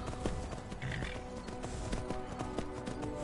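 A horse galloping in Skyrim, played in VR, gives quick repeated hoof clops at a low volume with a steady rhythm and a faint breathy tone mixed in.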